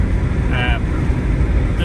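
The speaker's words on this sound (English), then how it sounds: "The wind noise, obviously I have the window down." Wind and road noise inside a Honda EP3 with a K24A2 engine swap, driven on mountain roads with the window down: a loud, steady broadband roar that fills the whole stretch without letting up.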